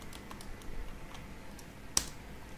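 Light clicks of a computer keyboard being typed on come quiet and close, tapping at an uneven pace, then a single sharper, louder press of the enter key stands out near the end.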